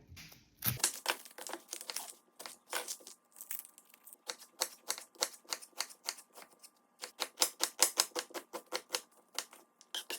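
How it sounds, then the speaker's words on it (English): A knife dices an onion on a cutting board, a run of sharp, fast chops in bursts with short pauses between, close and crisp, with no talking. "we're gonna go ahead and dice an onion"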